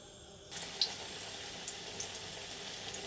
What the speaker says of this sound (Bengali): এই দেখো আমি কড়াইয়ে দিয়ে দিয়েছি এখন আমি একটু একটু করে ভালো করে ভেজে তুলে নেব